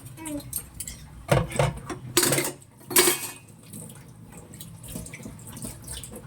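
Dishes being washed at a sink under a running tap, with clattering plates and cutlery in a few loud bursts over a steady trickle of water, while people talk nearby.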